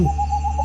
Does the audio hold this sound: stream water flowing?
no